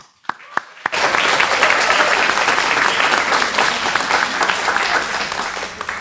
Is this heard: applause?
yes